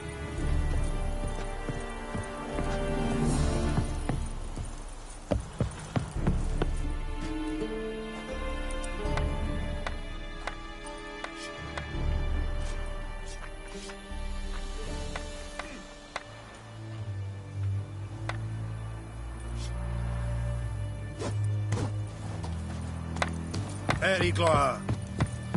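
Roach, the horse in The Witcher 3, gallops with rhythmic hoof clip-clop over a busy game soundscape of music and ambience, with brief spoken lines from a character.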